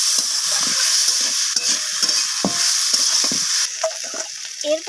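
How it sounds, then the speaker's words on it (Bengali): Potatoes and tomatoes fry with onions in a pan under a loud, steady sizzle, broken by repeated scraping strokes of a spatula stirring close to the microphone. "তো আলু টমেটো সমস্ত কিছু এইভাবে পেঁয়াজের সাথে আমি কষিয়ে নিচ্ছি।"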